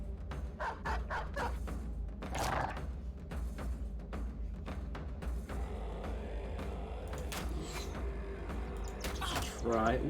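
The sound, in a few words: dog summoned in Battle Brothers video game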